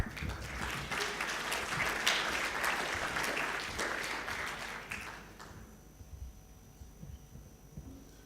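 Audience applause welcoming a guest speaker to the stage at a corporate social responsibility forum in Lebanon, a steady, full wash of clapping for about five seconds before it thins out and fades into quiet room tone.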